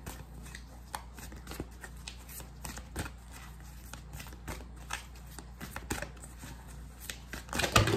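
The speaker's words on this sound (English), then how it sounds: "I'm gonna keep shuffling until a card comes out" Tarot cards are shuffled continuously close by, a soft riffling patter with sharp little snaps, ending in a louder flurry of handling.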